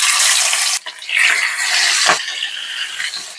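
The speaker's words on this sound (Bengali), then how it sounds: "আমার তেল গরম হয়ে গেছে, এবারে কাতলা মাছের মাথাগুলো ভেজে নিচ্ছি।" Katla fish heads fry in hot oil with a loud, dense sizzling hiss that briefly dips and swells again, close up and with no voices.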